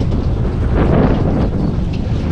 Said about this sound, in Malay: Dia tak hujan tau, tapi angin dia mahal. Angin padu.